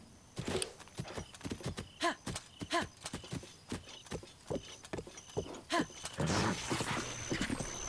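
A horse in the video game Breath of the Wild runs with fast, uneven hoof clops and a short whinny, close and fairly loud, over a steady game background.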